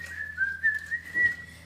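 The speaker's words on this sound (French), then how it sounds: "Siffler en travaillant." A person whistles a short, bright tune while doing household chores, close and clear over a quiet room.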